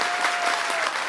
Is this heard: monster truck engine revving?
no